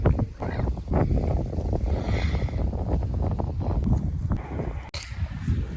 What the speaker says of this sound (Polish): No, wiatr się zerwał, trochę większy.